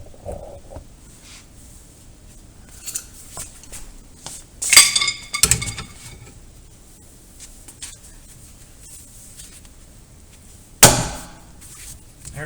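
A wrench-driven puller works the rear wheel bearing race off a VW Golf mk4, giving scattered metallic clinks and taps and then one sharp, loud crack as the race pops free. Nobody speaks.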